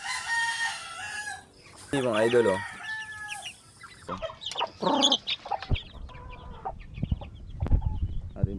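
Chickens cluck and a rooster crows nearby, with scattered hen calls, and a voice speaking briefly in Filipino over the farmyard noise.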